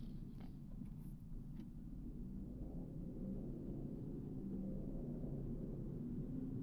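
Steady low rumble of idling car engines in a traffic jam in Al Baha, Saudi Arabia, continuous and droning with no distinct passes, heard from inside a vehicle.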